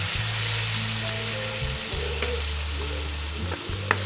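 Ground paste of tomato, green chili and onion sizzles steadily in a hot pan for a restaurant-style chana dal, a broad crackling hiss with a low hum underneath and a couple of sharp pops near the end, no talking.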